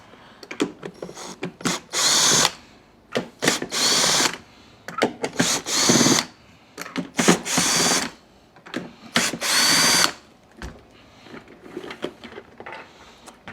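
Power drill backing torque screws out of a Numatic Henry HVR-160 vacuum, close loud whirring bursts of one to two seconds repeated many times with short pauses and small handling clicks between.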